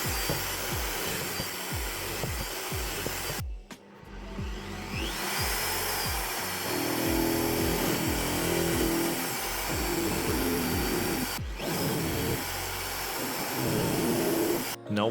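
A power drill whines steadily while pre-drilling holes in wood for a wooden cat scratching post, running continuously near the listener with brief pauses and pitch shifts as the bit bites and releases.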